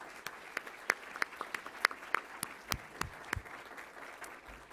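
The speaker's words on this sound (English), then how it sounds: "Can we have a round of applause for them, please?" An audience applauds with scattered, fairly quiet clapping, individual claps standing out in an uneven patter that continues throughout.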